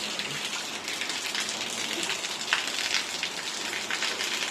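Steady rain pours onto surfaces outdoors in a continuous, even hiss with scattered droplet taps, moderately loud and unbroken.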